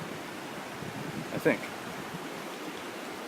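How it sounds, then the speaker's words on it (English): The Blue-Gray River flows steadily along a tramping track toward Lake Christabel, a broad, even rush of water, fairly close, with a person briefly murmuring over it. "I believe this is the Blue-Gray River."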